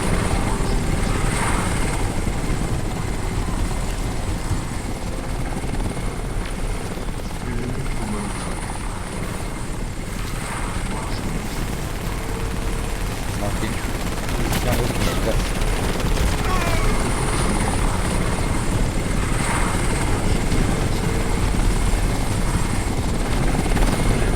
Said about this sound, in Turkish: helikopter var ya